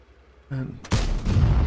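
A tank gun fires a shot in World of Tanks, a single heavy boom with a rumbling tail after a short mechanical tone, loud and close.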